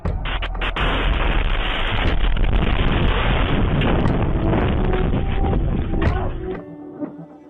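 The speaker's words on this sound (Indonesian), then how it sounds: "Serangan ini menyebabkan ledakan besar dan kebakaran." An Iranian ballistic missile strikes a residential area of Kiryat Shmona, northern Israel, setting off a large explosion and fire, heard as a sustained, heavy roaring blast rumble that fills the clip before cutting off near the end.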